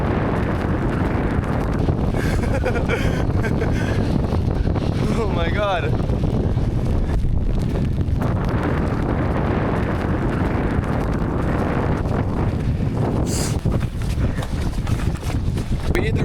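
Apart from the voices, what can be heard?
strong wind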